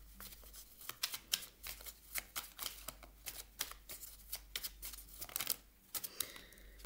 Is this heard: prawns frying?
no